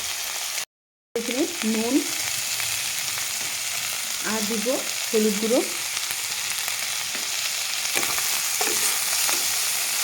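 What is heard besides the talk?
onions frying in a pan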